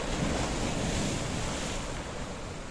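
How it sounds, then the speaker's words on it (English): Wind and choppy sea waves at Paphos, Cyprus, a steady, loud wash of surf with blustery wind buffeting the microphone throughout, no voices. "We do have a little bit of wind, and we do have a little bit of choppiness."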